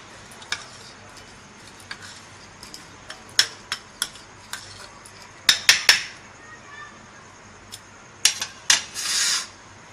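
A spoon clinks and scrapes against a pot while meat is mixed with a whole medium lemon, sharp intermittent taps in irregular bursts over a quiet background.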